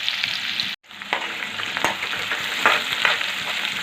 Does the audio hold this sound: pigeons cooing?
no